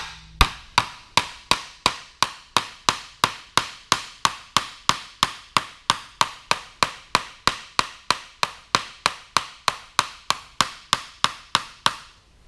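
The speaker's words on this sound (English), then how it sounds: "I would like to hammer this one down" Steel hammer beating sheet metal on a sandbag while a custom cowl recess is shaped: about thirty sharp, ringing blows in a steady, even rhythm, close and loud, each one decaying quickly before the next.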